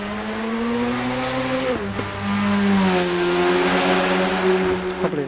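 A race car in the Assetto Corsa EVO racing game accelerates hard, the engine note climbing through the gears with sharp exhaust bangs at each upshift, loud and close with no talking.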